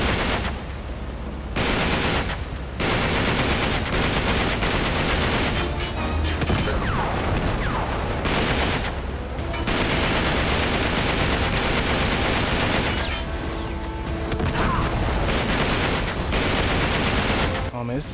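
Gunfire in the Uncharted 3: Drake's Deception video game during a fight where enemies fire on a moving ship, with dense, loud bursts of automatic fire and heavy booms nearly nonstop, broken by brief pauses.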